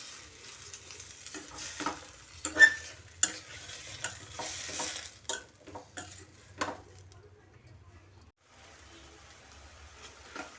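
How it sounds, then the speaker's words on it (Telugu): Tomato pieces cooking in a pan with tamarind, mint and coriander are stirred with a utensil, producing irregular scraping clinks and taps over a faint low sizzle, which fades into near quiet toward the end. "పుదీనా, కొత్తిమీర వేసాక మొత్తం కలిసే విధంగా కలుపుకొని టమాటా ముక్కలు సాఫ్ట్గా అయ్యే వరకు మగ్గించుకోవాలి"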